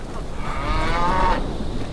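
A bull moos in a single long, drawn-out bellow with a rising and falling tone, near and fairly loud over faint background noise, in a film about giants destroying humanity.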